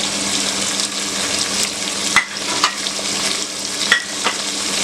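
Dry spices being stirred into vegetables frying in a pan for a mixed vegetable angara, with a continuous close sizzle and occasional scraping clicks from the spoon against the pan, no voices.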